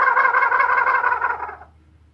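A haint gobble call imitating a turkey gobble, with a loud, rapid, warbling rattle that holds steady for about a second and a half and then cuts off abruptly, heard alone at close range.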